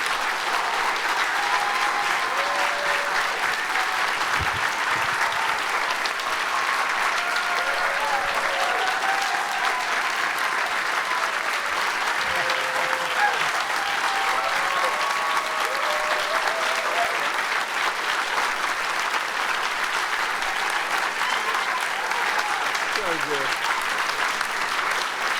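Audience at a live storytelling show in McCaw Hall applauding the storytellers, a long, steady wash of dense clapping from a large crowd, with faint voices and whoops now and then.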